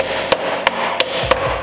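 A mallet strikes a part on a pit bike four times in an even rhythm, each blow a sharp, close knock over quiet workshop background.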